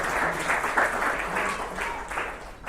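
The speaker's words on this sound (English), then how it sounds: "Can we have a big round of applause for Mirai Jamet and Mirai Capital Global?" A crowd at a cricket tournament closing ceremony in Dubai applauds steadily, a dense wash of clapping that holds throughout and fades slightly at the end.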